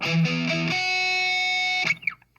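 A suspended chord strummed once on a distorted electric guitar. After a couple of quick picked notes, it rings sustained and even for over a second, then is cut off with a short scrape of the strings.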